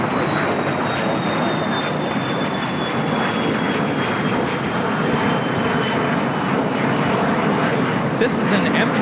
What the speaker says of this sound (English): This is an Embraer Legacy 500.